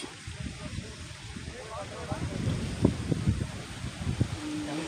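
Wind blowing across the summit of Parvathamalai mountain, a steady rushing roar with buffeting gusts hitting the microphone, loud and continuous throughout.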